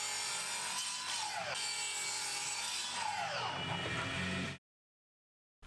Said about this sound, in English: cut them to length at the miter saw